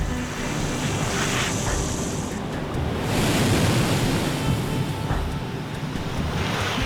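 Ocean surf washing onto a beach, a steady broad rush of breaking waves with wind noise buffeting the microphone throughout, fairly loud and continuous with no talk.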